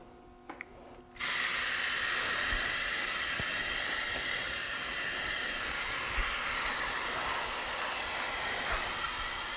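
An aerosol spray can laying a first light coat of Plasti Dip onto a car bumper, a steady hiss bursting on after a second of quiet and holding loud and unbroken to the end.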